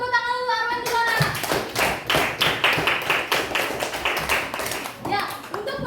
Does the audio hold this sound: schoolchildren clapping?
yes